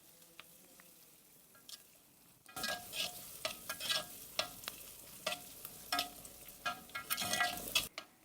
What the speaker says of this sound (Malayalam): കറിവേപ്പില ആഡ് ചെയ്തിട്ട് കുറച്ച് സമയം ഒന്ന് വഴറ്റി കൊടുക്കാം.